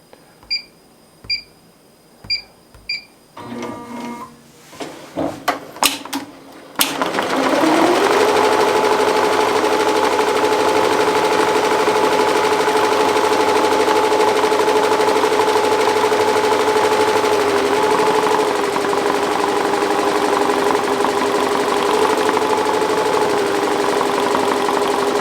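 A multi-head embroidery machine stitching after a few beeps and clicks at start-up, settling into a loud, steady mechanical whir with a constant hum, running alone without talk.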